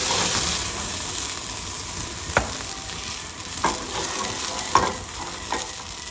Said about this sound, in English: now you can cook the mushroom for 5 minutes